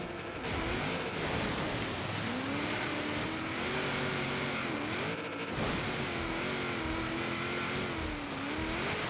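A car engine in Forza Horizon 3 drives off-road through snow, droning steadily with rising and falling revs and a few shifts, loud and close, with no talking.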